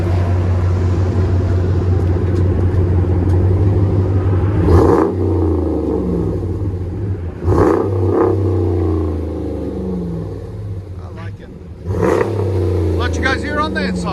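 A 2017 RAM 1500 with a 5.7L HEMI V8 and Gibson cat-back dual exhaust idles with a deep, steady rumble and blips its throttle in three loud revs that swell and fall back.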